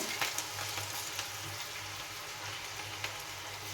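Potato slices frying in hot oil for a potato fry, a dense, steady sizzle with small crackling pops throughout, close and even in level, with no voices.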